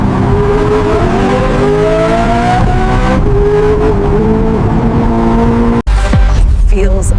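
A $3 million hypercar accelerates hard on an empty road at night, its engine note climbing through rising pitches in loud, close sweeps, cut off abruptly near the end before roaring back up.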